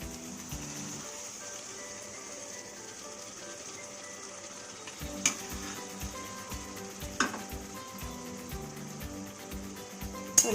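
Marinated mutton pieces are stirred into softened tomato in a pan with a steady sizzle, quiet at first, then a run of close, rhythmic spoon scrapes and clinks for the last half.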